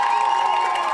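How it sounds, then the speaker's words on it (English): Football stadium crowd at a high school game between West Branch and Regina, a steady roar of noise building on third down, continuous and fairly loud with no single voice standing out. "The crowd is getting loud."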